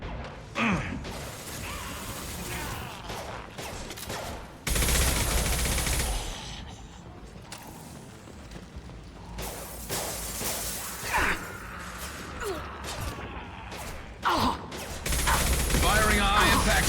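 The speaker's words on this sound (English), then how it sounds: "Firing a high impact shot." Concussive Shot ability firing in the video game Mass Effect 2, heavy impact blasts and mechanical clatter bursting out amid combat noise, with loud surges around the middle and end and voices talking at points.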